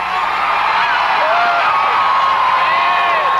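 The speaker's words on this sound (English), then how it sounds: "Listen to the crowd." A dense arena crowd at a 1994 Smoky Mountain wrestling event roars steadily, loud and continuous, with whoops and high shouts rising above the cheering.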